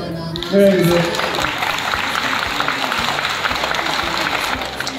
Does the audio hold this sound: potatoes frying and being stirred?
no